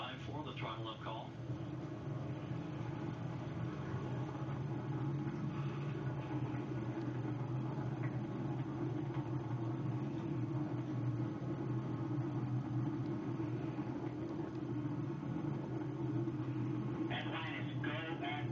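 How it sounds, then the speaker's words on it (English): Space Shuttle Atlantis main engines rumble steadily through launch, a continuous dense low roar that persists throughout while a broadcast commentator talks over it. "Engines now revving up, standing by for the throttle up call."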